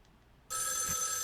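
A rotary telephone in the game Spirit Hunter: NG starts ringing abruptly after a quiet moment, a loud continuous metallic bell that carries on to the end.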